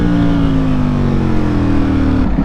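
A modified Ducati V4S motorcycle engine revs loudly up close, its pitch sliding slowly downward as it holds high, then cutting off abruptly at the end.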